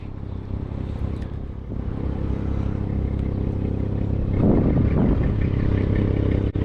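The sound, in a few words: 2018 Audi S4 3.0T engine and exhaust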